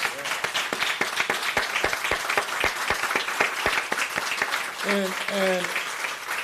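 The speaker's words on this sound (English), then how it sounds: "We want you to applaud each other for all that you do." A large audience at a ribbon-cutting ceremony applauds steadily with sharp individual claps throughout, while a voice speaks briefly over the clapping near the end.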